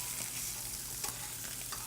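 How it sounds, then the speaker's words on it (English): Scallops sear in a hot pan with a dense, steady sizzle heard up close, broken only by faint shifting and scraping, with no voices. "We're just searing them top and bottom."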